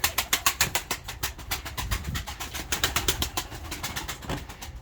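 Pigeons in an outdoor loft area, white tumbler-type birds, give a steady run of rhythmic coos and wing flutters, close and fairly loud, with no talk over them.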